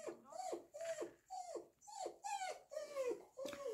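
Two dogs whimper and growl in a repeated, rising whine pattern, close and fairly loud, with short gaps between each cry over several seconds.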